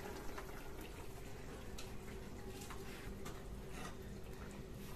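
Chicken and onion gravy simmering in a pot, a steady low bubbling and hiss with faint liquid pops, quiet and continuous with no voices.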